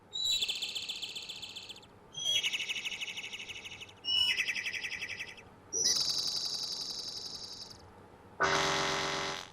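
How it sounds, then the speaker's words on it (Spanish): Synthesized bird tweets from General MIDI program 124 play as five bursts of bright, high chirping trills, each about a second or two long, the last one harsher and noisier, with no talking. "Entonces aquí escribimos 124 y deberá sonar unos pajaritos."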